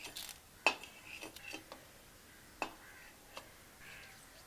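Cooked urad dal and lentils are scooped out of a pot with a utensil, giving a few sparse, soft metallic clinks and taps against a quiet background.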